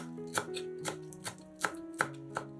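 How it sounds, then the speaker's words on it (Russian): A knife chops a bunch of dill and parsley on a board, giving about six crisp, separate thuds at an uneven pace, close and fairly quiet, while faint music plays in the background. "Пучок зелени измельчаем ножом"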